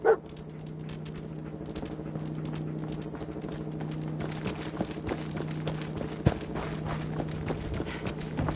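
Dogmeat, the canine companion in the video game Fallout 4, barks a few scattered times over a steady low game-ambience hum, with occasional soft footfall-like taps and no talking.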